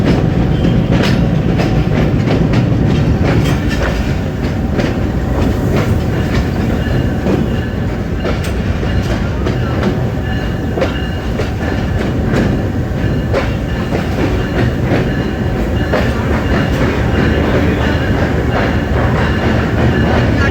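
A passenger train running on the line between Jhelum and Lahore, loud and close, with a steady rumbling roar and continual clattering of wheels over rail joints throughout.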